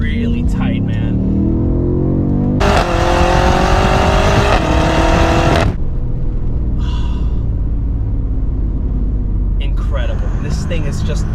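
A BMW F90 M5 powering through a tight corner, its engine a loud, steady roar that swells into a harder, higher-pitched rev midway, then settles back into a rumbling cruise with road noise throughout.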